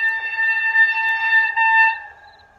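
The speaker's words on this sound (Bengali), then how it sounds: "মাঠ প্রান্তর মুখরিত করে ট্রেনের হুইসেল ডাক দিল।" Train whistle blowing as a train departs across open fields, a steady high tonal blast held for about two seconds before fading out, alone and fairly loud.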